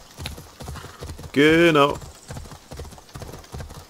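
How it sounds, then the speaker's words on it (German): Steady clip-clop of horse hooves while riding in Assassin's Creed Odyssey, with a brief neigh in the middle; someone talks briefly over the game sound. "Diesmal reiten wir, da müssen wir nicht so viel zu Fuß gehen."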